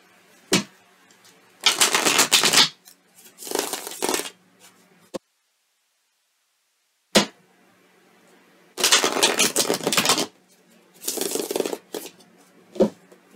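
Tarot-style reading cards being shuffled close up in several brisk riffling bursts, each lasting a second or so. Short taps fall between the bursts, and one long silent pause breaks up the sequence.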